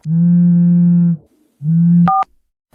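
A telephone gives two long low buzzing tones separated by a short gap, followed by a brief higher electronic beep, close and clear with no talk.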